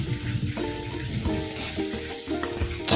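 Ground masala paste being stirred in a hot pan, with a steady sizzle and frying crackle under soft scraping strokes of a spoon, close and moderately quiet, no talking.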